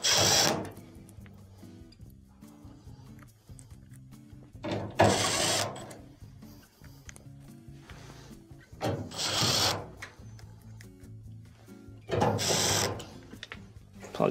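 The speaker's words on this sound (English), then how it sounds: "Let's go ahead and reinstall our screws." Power drill driving screws back into a dryer during a drive motor repair, giving three short whirring bursts with clicking mechanical handling between them, close and alone.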